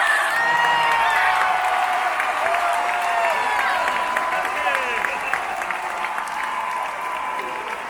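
A stadium crowd in Valenciennes applauds Brazil captain Marta as she leaves the pitch after the Italy–Brazil women's football match, with broad sustained clapping and cheering under a commentator's voice and scattered whistles.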